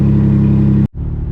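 A car engine runs in a loud, steady low rumble close by, cuts out abruptly, then resumes at a lower idle as it pulls away on a test drive after its tire pressures and TPMS sensor were reset.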